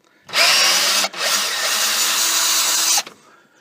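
A power tool rattles loudly while undoing 19mm strut bolts on a 2011 Triton MN, running in two close bursts with a brief pause between, then stopping abruptly.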